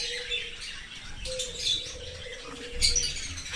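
Rainbow budgerigars in a breeder's aviary chirp and twitter continuously, with a few louder bright calls and some wing movement close by.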